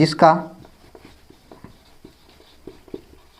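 Chalk or marker writing on a board during a physics lesson, faint scratchy taps and strokes at irregular intervals following a brief burst of speech, quiet and close.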